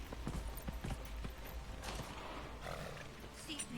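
Horse galloping in Dragon Age Inquisition, a rapid run of hoofbeats at moderate distance mixed with ambient game sound, steady rhythm throughout with a faint bellow partway through.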